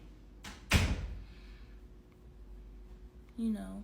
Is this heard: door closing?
yes